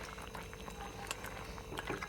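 Fish curry with small bony fish simmers in a pot, a steady soft bubbling boil with faint pops throughout, close and quiet with no talking.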